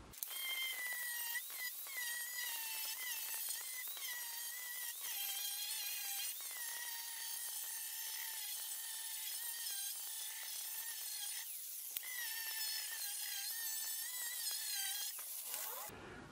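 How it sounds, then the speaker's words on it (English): A steady, loud, high whining grind from an angle grinder with a flap disc smoothing down a weld on a car body repair, running continuously with slight pitch wavers before cutting off at the end. "we're going to get our flap disc on the grinder and we're going to grind down the weld really smooth."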